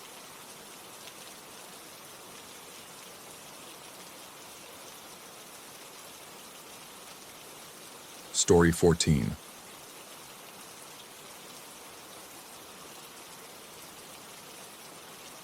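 Steady rain falls throughout, a soft even hiss of drops on surfaces, constant and close, with a brief spoken phrase breaking in partway through.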